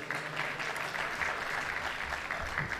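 An audience at an evening unity gathering applauds to welcome an association president onto the stage, giving a dense, steady wash of many hands clapping throughout.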